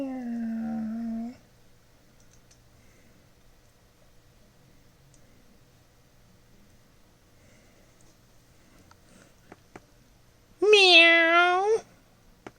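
A human voice imitates a cat's meow, with two drawn-out meow-like calls, one at the start and one near the end, separated by a long quiet stretch with faint handling noises.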